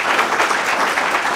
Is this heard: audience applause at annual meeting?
yes